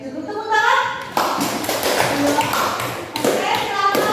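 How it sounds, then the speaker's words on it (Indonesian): Students in a classroom clap for a presenting group, a dense patter of applause running for several seconds while children's voices and talk continue over it. "cukup tepuk tangan"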